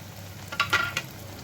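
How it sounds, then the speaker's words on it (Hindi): Chicken nuggets frying in oil over low heat, a close sizzle with a few brief louder crackling bursts and no talk. "मैंने सारे जो है ना नगेट्स डाल दिए हैं।"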